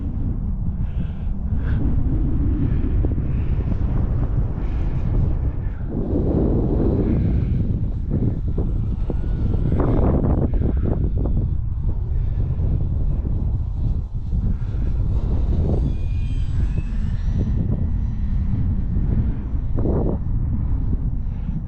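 E-flite Conscendo RC model airplane flying at Arnarvöllur, a steady buzzing electric-motor drone heard against heavy, constant wind rumble on the microphone, rising and fading slightly as the plane passes.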